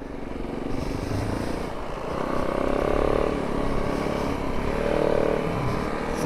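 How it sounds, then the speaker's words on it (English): A snow bike engine drones steadily while riding along a snowy mountain ridge, swelling twice in revs at moderate distance, with no talk over it. "It's cake on a snow bike."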